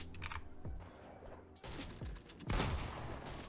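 Gunfire in the video game Fortnite, a few sharp, punchy shots bursting in over a busy background of game sounds and clicking, close and fairly loud.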